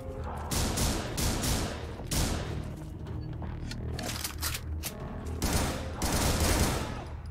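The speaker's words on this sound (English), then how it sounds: "Stop shooting me." Video game gunfire aimed at the player, rapid bursts of automatic shots and booms in repeated volleys, loud and close, with no talking.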